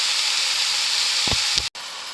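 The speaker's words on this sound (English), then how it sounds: "so we'll let that brown for a couple of minutes" Beef browning in a hot pan for slow-cooker stroganoff, giving a steady, loud sizzle and hiss with a couple of brief low knocks near the end.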